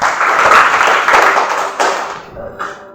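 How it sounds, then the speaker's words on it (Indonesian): A class of students applauding, a dense wash of clapping that starts at full strength and fades out over a few seconds in a classroom. "Tepuk tangan buat semuanya."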